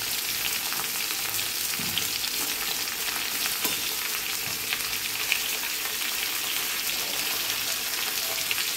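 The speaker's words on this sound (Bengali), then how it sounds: "গ্যাসটাকে কম করে ভালো করে সব সবজিগুলো একসঙ্গে তেলের মধ্যে ভেজে নেব।" Pumpkin, capsicum and beans fry together in oil over a lowered flame, making an even, hissing sizzle with small crackles and an occasional stirring clatter, close up and with no one speaking.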